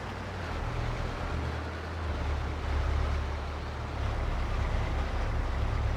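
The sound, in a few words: tractor driving to the field, from a video game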